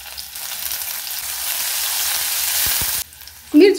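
Garlic and finely chopped green chilies fry in a pan for a fresh green pea snack, a loud steady sizzle that cuts off abruptly near the end, followed by a brief clatter.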